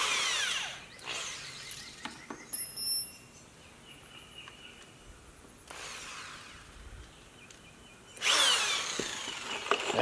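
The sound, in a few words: cordless drill drilling into wood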